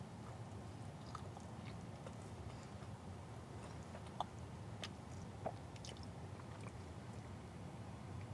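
Biting and chewing a McDonald's Big Arch burger, steady soft squishy mastication over a constant noisy background, with a few sharper crunchy bites standing out.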